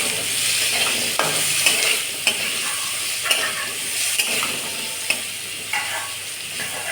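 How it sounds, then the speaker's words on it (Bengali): Ambarella pieces fry with salt and turmeric in a pan, a loud continuous sizzle broken by sharp scrapes and clicks of stirring, close up with no voices. "আমড়াগুলো আমি ভেজে নেব"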